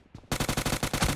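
Video game gunfire rattles off in a rapid automatic burst, about a dozen loud close shots in even quick rhythm after a brief quiet start.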